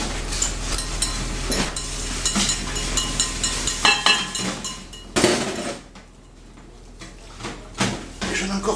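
Butter-enriched far breton batter being mixed in a bowl, with irregular clinks and scrapes of a utensil against the bowl and a soft wet swishing, some brief pauses between strokes.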